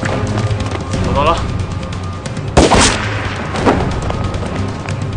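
A single sharp gunshot cracks out in a police drug-raid scene of a TV drama, loud and close amid tense shouted dialogue and background score.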